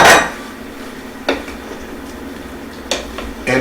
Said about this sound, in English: I'm going to put my potatoes in